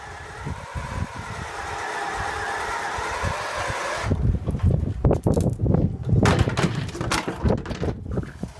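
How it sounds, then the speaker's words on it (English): A power drill bores out pop rivets on a vintage steel glider: a loud, steady whine for several seconds, then choppy, uneven grinding bursts as the bit bites through the metal. "Drilling out those pop rivets."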